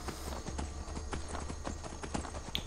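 Horse hooves clip-clopping in the video game Skyrim, a quick, steady run of light, close hoofbeats over a low background hum, with no voices.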